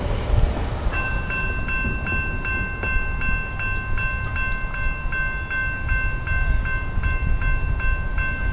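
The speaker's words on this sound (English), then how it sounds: "This is going to be NS Intermodal Train 213, heading southbound on the NS Charlotte District Mainline in Belmont," Norfolk Southern intermodal freight train 213 approaches southbound on the Charlotte District mainline in Belmont, North Carolina, led by locomotive 8457, with a steady rumble and a repeated series of sharp bell-like tones ringing throughout.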